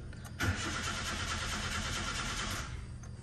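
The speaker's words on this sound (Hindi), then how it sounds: "गाड़ी सेल्फ ले रही है लेकिन गाड़ी स्टार्ट नहीं हो रही" A Nissan Sunny engine cranks steadily for about two seconds without catching, its starter whirring loud and close, then it cuts off, with no speech.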